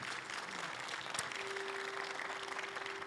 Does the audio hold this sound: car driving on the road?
no